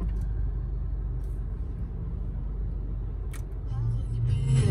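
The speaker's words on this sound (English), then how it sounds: "I've let the car run in the parking lot for 20 minutes and the engine temperature seems to be maintaining nicely" A 2014 Nissan Juke Nismo RS idles in a parking lot after running for a while, a steady low engine rumble throughout with a slight rise near the end.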